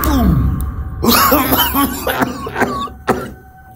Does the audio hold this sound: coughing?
yes